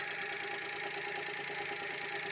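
A Daewoo Tico engine running steadily after a carburetor adjustment, an even, continuous mid-pitched hum with a slight rhythmic knock, close and unbroken, with no talking.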